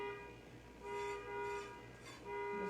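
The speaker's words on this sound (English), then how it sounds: "Somebody's getting very impatient and honking their life out downstairs" A car horn honks repeatedly from the street below, muffled and fairly faint, sounding in a few sustained blasts with short gaps between them.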